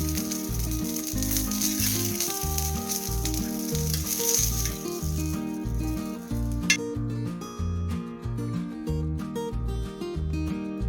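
Eggplant pieces fry in oil for a Tamil oil-fried eggplant dish, giving a steady close sizzle with background music.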